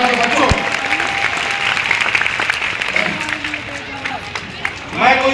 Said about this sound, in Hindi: एक बार अपने लिए जोरदार तालियां बजाओ तुम लोग